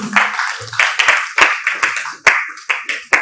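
Audience applause at a business-of-law conference: a burst of sharp, close hand claps in an irregular rhythm, loud and steady for a few seconds with no talking over it.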